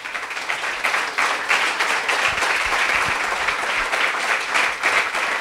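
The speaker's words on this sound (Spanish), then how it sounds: "Denle un aplauso fuerte al Señor." A church congregation applauds loudly and steadily for the Lord during a Spanish-language sermon by Pastor Hugo García, a dense, sustained wash of many hands clapping close and full without a break.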